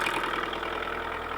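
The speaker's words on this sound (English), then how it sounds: "engine sounds smooth. Sounds like an old Kubota." An old Kubota KH-90 mini excavator's diesel engine idles close by with a steady, even low knock and rumble throughout the short stretch.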